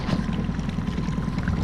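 Six-horsepower outboard motor on a small boat running steadily, a continuous low droning hum with water rush, close and fairly loud throughout.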